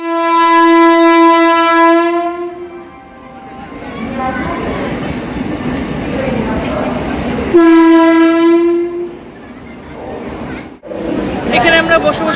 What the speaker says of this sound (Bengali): আমাদের সামনে আসছে 22345 পাটনা গোমতীনগর বন্দে ভারত এক্সপ্রেস।